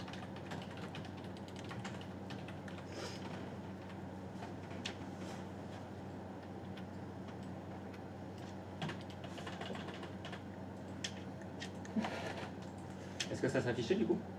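Soft scattered clicks of typing on a computer keyboard during remote tech-support troubleshooting, faint and irregular under a constant hum, with a brief louder burst of keystrokes near the end.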